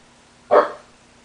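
A single loud dog bark close by, one sharp burst lasting about a quarter second over an otherwise quiet room.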